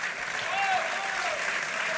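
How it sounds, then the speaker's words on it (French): An audience at the Rencontres économiques d'Aix-en-Provence applauding, a dense, even wash of clapping from a crowd, moderately distant and steady for the whole stretch. "Peut-être a-t-il droit à quelques applaudissements de votre part."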